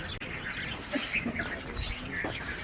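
Small birds chirp and tweet in a forest area set up for bird care, with scattered short calls at moderate distance over a steady outdoor background and no talking.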